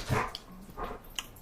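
Dogs bark in the background during a live bookbinding session, two fairly faint bursts roughly half a second apart over a quiet room.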